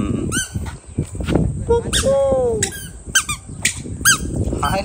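A child imitates a sparrow's call with short, squeaky, chirping vocal bursts repeated several times, mixed in with nearby adult talk and household noise.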